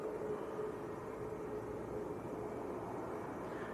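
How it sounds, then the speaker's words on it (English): An easyJet A321neo airliner lining up for takeoff at Manchester Airport, a low steady engine rumble at a distance, even and unbroken throughout, with no speech. "EasyJet's lining up."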